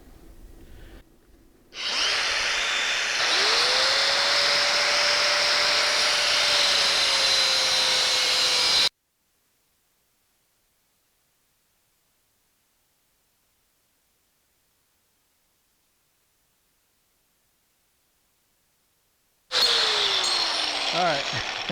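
A DeWalt DCG413B battery angle grinder spins up and runs with a steady high whine for several seconds, cuts out to silence, then starts again briefly near the end.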